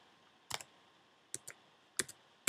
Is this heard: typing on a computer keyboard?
yes